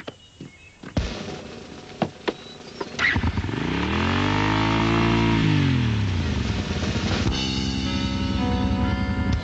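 A cartoon motorcycle engine rises into a loud, swooping rev that climbs and falls as it builds speed for a jump, then sustains a buzzing drone, preceded by a few sharp clicks and bangs.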